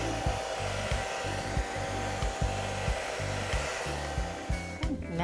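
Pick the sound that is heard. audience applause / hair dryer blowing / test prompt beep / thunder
hair dryer blowing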